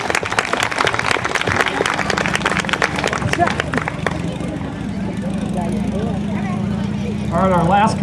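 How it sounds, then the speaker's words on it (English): Audience applause with clapping fills the room at a school talent-show style event, loud and steady for several seconds before fading into crowd chatter and a voice. "Let's give Tristan a round of applause."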